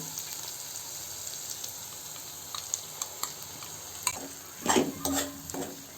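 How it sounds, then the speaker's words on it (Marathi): Yogurt masala paste fries in oil with tomato as a low, steady sizzle, joined later by a few sharp scrapes and knocks of a spoon stirring in the pan. "असं भाजून घ्यायचं तेल सुटेपर्यंत मसाल्याला"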